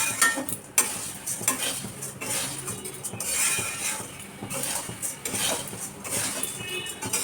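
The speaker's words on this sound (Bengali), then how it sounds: "এটাকে এবার আরও ভালো লাল লাল করে ভেজে নিতে হবে।" Salted flattened rice (chire) stir-fried in a pan until reddish and crisp, with a continuous dry rustle and sizzle and frequent spatula scrapes and clinks against the pan, close and steady.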